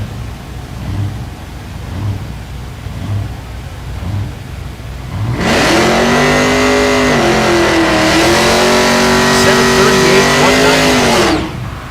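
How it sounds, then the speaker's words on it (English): First-generation Firebird drag car with a big-block Chevy launching down the strip, a loud, steady engine roar that rises sharply and holds with shifting pitch. Lower crowd and track ambience comes first, and faint talk sits beneath. "First gen Firebird. Big block Chevy. Has not made a pass yet"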